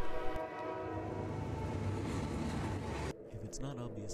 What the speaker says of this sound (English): And here you can hear a train in the background.